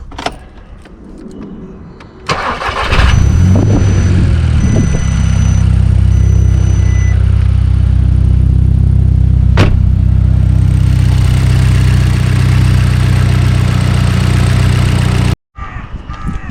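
A car with a BWA TFSI engine cranks and catches after a quiet moment with some rattling, then settles into a loud, steady idle with cooling fans running, cut by a brief click and a short gap near the end.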